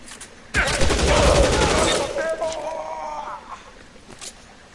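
Gunfire in the video game L.A. Noire, a sudden loud volley of rapid shots that fades into a lingering tail, with a voice heard faintly over the shooting.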